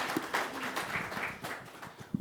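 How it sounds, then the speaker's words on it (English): Faint, steady round of applause from a small audience at a Sunday night talk session, soft and continuous clapping heard from a distance for a couple of seconds. "Give her a round of applause"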